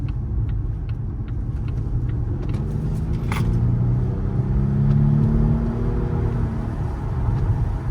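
A 390 hp Volvo V60 T8 hybrid estate car pulls away with a low, steady interior rumble that swells gently as it gathers speed, heard from inside the cabin with a few faint clicks and no talking.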